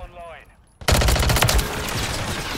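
Loud, rapid automatic gunfire from a Striker 9 weapon in a first-person shooter game bursts in suddenly after a short quieter moment, a dense sustained volley.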